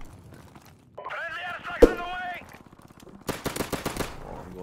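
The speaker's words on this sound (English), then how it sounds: "Let's pull out this sniper and go to work." Gunfire in Modern Warfare Remastered: one sharp, loud shot, then a rapid burst of repeated shots a moment later, with someone talking over the game between them.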